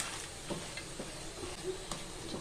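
Ground coriander powder fries gently in hot oil in a pan for a fish masala curry, a soft steady sizzle close by with light stirring scrapes, no voices.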